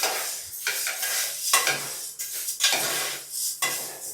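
Green gram being dry-roasted inside a pressure cooker, with bursts of gritty rattling and scraping as the lentils are stirred against the metal, close and uneven in rhythm.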